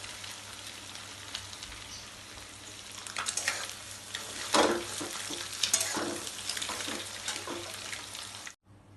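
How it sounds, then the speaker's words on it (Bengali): Nigella seeds tempering in hot oil on a low flame while scrambled egg sits ready: a soft, continuous sizzle with scattered crackling pops, fairly quiet and close, swelling briefly midway before cutting off near the end, no voices. "ওই তেলের মধ্যে আমি কিন্তু আর কোনো তেল দিইনি, দিয়ে দিচ্ছি একটু কালো জিরে ফোড়ন"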